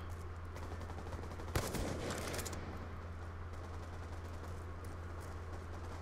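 A single sharp gunshot cracks out with a brief rattling tail during a free-for-all video game match, set over a constant low electronic hum with no talking.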